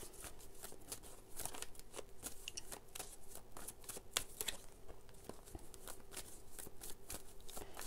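A deck of oracle cards is shuffled by hand during a tarot-style reading, giving a steady run of soft, close riffling and flicking slaps with no talking.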